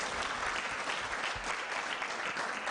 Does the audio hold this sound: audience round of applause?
yes